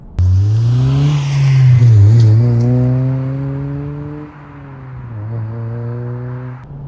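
A Honda Civic Type R FD2 engine revs hard and climbs through the gears, loud and close, its pitch rising steadily before dipping and climbing again.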